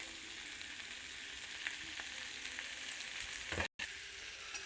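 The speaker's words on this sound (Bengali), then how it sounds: "ওর মধ্যে হলুদ দেব আর নুন দিয়ে আর একটু ভেজে নেব।" Potatoes and eggplant fry in hot oil with turmeric and salt, giving a steady, close sizzle that holds throughout, with a few brief stirring scrapes and a sudden momentary dropout near the end.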